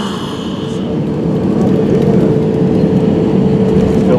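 An Easyjet Airbus A320 rolls along after landing at London Gatwick, a broad engine rumble and whine that swells slightly louder midway and holds steady, heard from inside the cabin.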